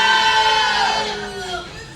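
Wrestling arena crowd cheering wildly, a dense, loud roar of many voices that swells at first and then eases slightly, with some shouting mixed in.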